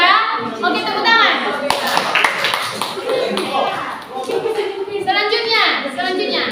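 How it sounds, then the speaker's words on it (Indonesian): A group of children claps together in a classroom, a dense, lively burst of applause mixed with excited kids' voices and chatter throughout. "Oke, tepuk tangan."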